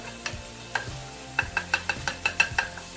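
Vegetables frying in leftover bacon grease in a pan for a breakfast scramble, with a soft steady sizzle broken by about ten sharp scrapes and taps of a utensil stirring, close and fairly quiet.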